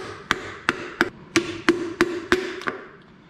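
Eight light, evenly spaced taps from a small tool pressing a piston through a ring compressor into an engine block, crisp and close, about one every third of a second, with nothing else heard.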